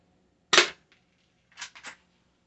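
Shots from a UKARMS P618SB airsoft pistol, a budget spring pistol: one sharp, loud snap, then a quick cluster of three lighter pops a second later, with no talking.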